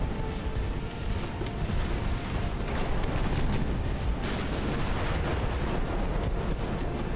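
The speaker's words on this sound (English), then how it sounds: "Okay, some torpedoes were fired." Naval gunfire and torpedo launches from warships in Ultimate Admiral: Dreadnoughts, a 1902-era battle, form a dense, continuous roar of booms and rumbling blasts that never lets up.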